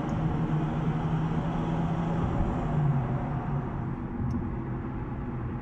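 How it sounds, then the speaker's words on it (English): Dense traffic rumbling across the ten-lane Bay Bridge, a steady broadband roar of many vehicles with no pauses, heard continuously and fairly loud throughout. "10 lanes of traffic."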